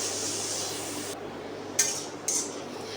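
Leafy greens and potato frying in a pan, with a steady bright sizzle for about a second before it drops away, followed by two sharp clinks of a utensil against the pan.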